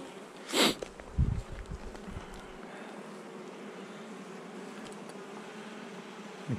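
Honey bee colonies buzz during a hive inspection in stormy weather, a steady low hum heard close, with a loud sniff and a snort near the start.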